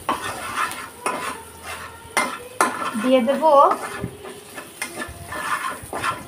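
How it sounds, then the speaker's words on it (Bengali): Onions fry in a pan as a utensil stirs and scrapes against the metal, with sharp clinks and a light sizzle beneath a person speaking briefly. "পেঁয়াজটা বেশি ভাজা করব না"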